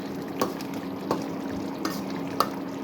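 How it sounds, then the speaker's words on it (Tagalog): Minced meat sautés with ginger and garlic for mapo tofu, making a soft, low sizzle at moderate distance, punctuated by four light, evenly spaced spatula taps and scrapes. "Tapos yung meat, ginisa ko sa ginger at bawang."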